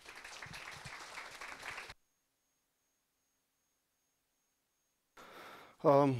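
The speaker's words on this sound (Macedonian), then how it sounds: "еден голем аплауз за Марко и да почнеме" A burst of audience clapping at a tech meetup for about two seconds cuts to silence, then faint room noise and a voice begins speaking.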